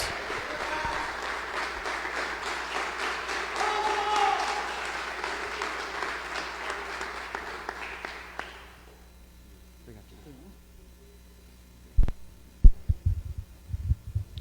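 Congregation applauding in a church service, a steady wash of clapping from many hands for about eight seconds that fades out, followed by a few scattered sharp knocks.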